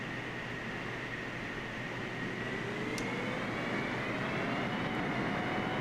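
A Boeing 747 airliner climbing in Microsoft Flight Simulator gives a steady, unbroken jet-engine roar that holds at an even loudness throughout, with no voices.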